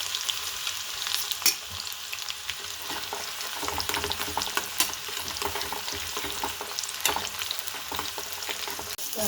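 Garlic and green chilies fry steadily in a pan for dal khichdi, a continuous close sizzle with scattered crackles and occasional stirring scrapes, with no voices over it.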